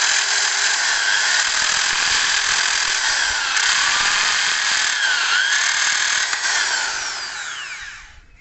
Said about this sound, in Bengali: ডিল করে নিচ্ছি, নাহলে ফেটে যাচ্ছে।